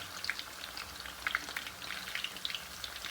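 Beef gola kababs fry in a pan on a low flame, giving a soft, continuous crackling sizzle with small popping spatters, fairly quiet and steady throughout.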